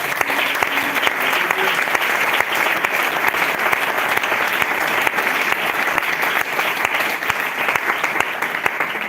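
Church congregation clapping for the Lord during a sermon, dense and loud sustained applause with sharp individual claps standing out, continuing unbroken throughout.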